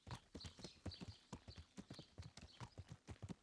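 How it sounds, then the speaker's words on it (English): A horse ridden through a town in Kingdom Come: Deliverance gives a rapid, regular clip-clop of hooves on hard ground, crisp and close, continuing throughout at a quiet level. "You are able to ride your horse through towns"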